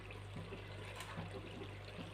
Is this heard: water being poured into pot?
yes